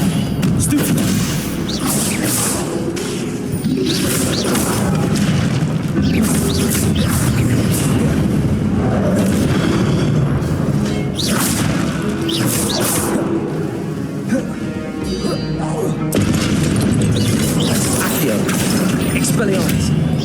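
Stupefy spell blasts in Hogwarts Legacy go off as repeated booming impacts and bursts within a dense, loud stretch of battle noise with crackles and mechanical rattles. A voice speaks intermittently over it.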